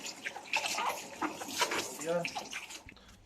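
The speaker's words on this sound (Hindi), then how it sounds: "नल खोल देंगे, इसको धोएंगे अच्छी तरह से" Tap water runs in a home kitchen while an eggplant is washed under it, a soft splashing flow heard beneath a person talking throughout.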